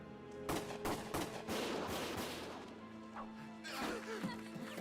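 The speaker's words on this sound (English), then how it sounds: "Gunfire!" Sharp bursts of video game gunfire from the World War 2 game Valkyria Chronicles crack and clatter in quick succession, loud and close, with crashing impacts and a brief voice underneath.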